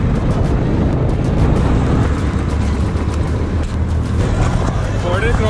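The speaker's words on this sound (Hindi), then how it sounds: "ट्रैफिक बहुत है यार, आधे से भी कम रास्ता हुआ है बट ट्रैफिक मजबूत है।" Dense, steady road noise from heavy traffic on the Delhi to Rohtak highway, heard from a moving ride, with continuous loud engine and wind rumble and no pauses.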